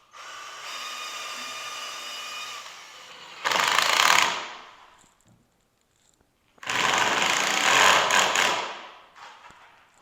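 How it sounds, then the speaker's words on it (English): Two bursts of a power drill boring pre-start holes while a chicken tractor is built, each lasting about a second or two, separated by quiet, close and loud. "Drill some pre-start holes here."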